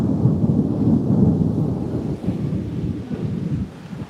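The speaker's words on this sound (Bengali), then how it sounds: "প্রচণ্ড পরিমাণে মানে বিদ্যুৎ চমকাচ্ছে, বাজ পড়ছে" A thunderstorm with rain: deep thunder rumbles continuously and loudly over the hiss of falling rain, fairly close, with no one speaking.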